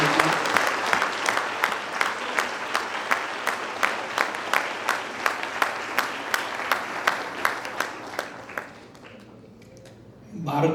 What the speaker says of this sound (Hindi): मैं आप सबसे अनुरोध करता हूं कि तालियां बजा करके इनका अभिनंदन।